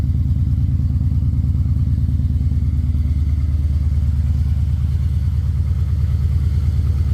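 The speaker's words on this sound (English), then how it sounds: "Here's the cold idling." A loud, steady 5.7 LS V8 engine swapped into a BMW E36 cold idles with a deep, even rumble and a regular throbbing pulse, running alone without any voices.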